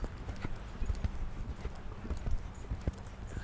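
Horse hooves clip-clop steadily in an indoor-style riding lesson, a quick continuous rhythm of hoof beats on soft footing, fairly close, with occasional faint snorting.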